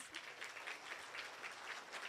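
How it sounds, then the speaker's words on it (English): Pageant audience applauding the contestants vying for the Mrs NY crown, a fairly quiet, distant patter of clapping with faint rhythmic pulses and no talk over it. "Let's give them all a round of applause."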